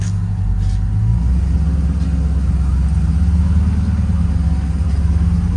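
The engine of a Roadkill CrewCab Chevelle car drones steadily in low, rumbling tones as it drives along. The rumble is loud and continuous, and it is heard close up from inside the vehicle.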